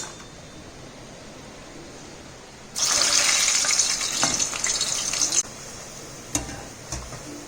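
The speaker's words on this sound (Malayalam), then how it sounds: "ഇനി നമുക്കിത് എണ്ണയിലോട്ട് ഇടാം" Urad dal vada (uzhunnu vada) batter drops into hot oil with a sudden loud sizzling hiss that holds steadily for a few seconds, then settles to a quieter bubbling fry with a couple of sharp pops.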